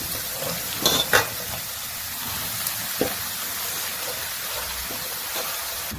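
Amaranth leaves and onions fry together in a pan, a continuous hissing sizzle with a couple of brief clinks near the start, steady and close, with no talking.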